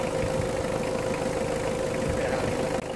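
A second-hand Mitsubishi Adventure engine, previously misfiring and prone to overheating, idles smoothly now, a steady close hum with a faint mid-pitched tone held alone throughout.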